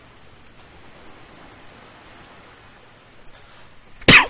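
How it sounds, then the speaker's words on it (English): A person with a cat allergy gives a single sharp cough, loud and close, after several seconds of quiet room noise. "No, Sam was sitting on my lap and now I'm coughing"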